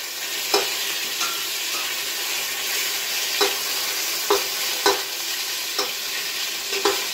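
Beef chuck browns in hot fat in a pan while being basted, a constant bright sizzle broken by a handful of spaced clinks and scrapes of the spoon, close, with nobody speaking.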